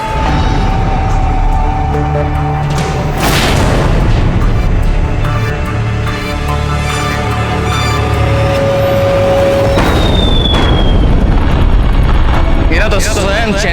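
Artillery shell bombardment in a historical Maharana Pratap drama: loud, booming explosions and rumbling blasts keep going throughout, with dramatic music and voices mixed over them.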